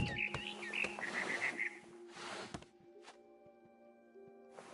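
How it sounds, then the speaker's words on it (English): A barn swallow chirps outside a window in the video game What Remains of Edith Finch, a quick run of bright twittering notes over a quiet, faintly humming room, then near silence. "I heard chirping outside my window. It was a barn swallow going back to her nest."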